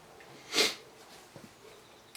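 A single sharp sneeze, close and fairly loud, followed by quiet breathing and faint small noises.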